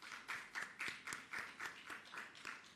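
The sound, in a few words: audience clapping at press briefing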